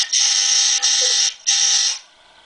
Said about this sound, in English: that's a buzzer there at my door